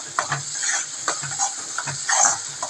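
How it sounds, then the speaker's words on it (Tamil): Ground masala sautéing in a pan for chicken keema, a steady close sizzle broken by repeated scraping strokes of a spoon against the pan, with no talk. "இந்த மசாலா போட்டுட்டு வதக்கி விட்டுக்கோங்க"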